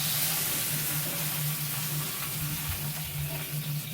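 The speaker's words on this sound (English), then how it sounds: "Now it's going to finish browning on that 3rd side." Roast beef browns in a frying pan with a constant, even sizzle and a faint low hum beneath, and it stays close and unbroken with no voices.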